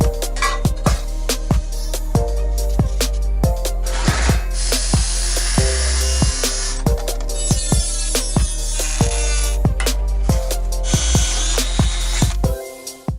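A power drill bores a hole through a metal plate, a sustained whining grind punctuated by regular sharp clicks, with brief high screeching bursts midway before the drill stops abruptly at the end.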